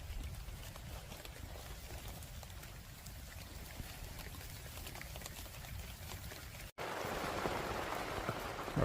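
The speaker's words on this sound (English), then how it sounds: "The rain is coming down." Steady rain patters down continuously, growing louder and closer toward the end.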